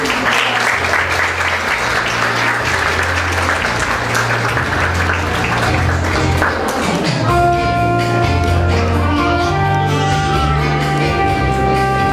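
Applause from the audience at a solemn council session honouring teachers, a steady wash of clapping that runs for several seconds before music with sustained tones takes over.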